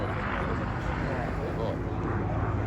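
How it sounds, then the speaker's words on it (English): A Spitfire aircraft passes overhead on the Isle of Man, a steady loud engine drone that fills the whole clip without letting up, with voices faintly present beneath it. "Spitfire."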